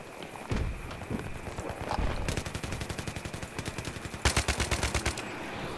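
Automatic weapon fire in the video game Battlefield 3, rapid rhythmic bursts of shots, close and loud, with a heavier burst near the end and game ambience beneath.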